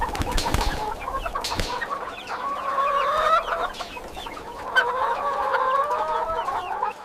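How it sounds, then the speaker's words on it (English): Plymouth Rock chickens cluck and murmur continuously in a busy flock settling to sleep in a large production facility, soft overlapping calls with an occasional louder squawk, close by and without talk. "The Plymouth Rock chickens settle down to sleep."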